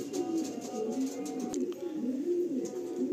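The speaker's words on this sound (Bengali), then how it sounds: "আজকে দাদার ভিডিওটা আমরা কালো পায়রা দিয়ে স্টার্ট করলাম" Black pigeons for sale in Kolkata coo in low, rolling, repeated calls, close and clear against a quiet background.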